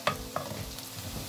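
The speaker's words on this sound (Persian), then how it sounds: "همینجور که مشاهده میکنید پیازها در حال سرخ شدن هستند" Sliced onions frying in a pan, a steady close sizzle with a few sharp pops and stirring scrapes, no voices.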